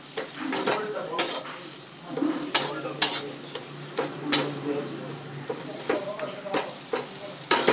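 Potato filling for aloo paratha frying and being stirred in a pan on a gas stove, a steady sizzle under repeated sharp scrapes and clinks of a utensil against the pan, close and moderately loud, with no talking.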